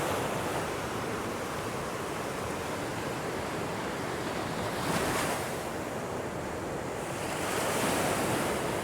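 Ocean waves break on a sheltered beach, a steady loud wash of surf swelling with two distinct breaking surges, mixed with wind noise on the microphone and no voices.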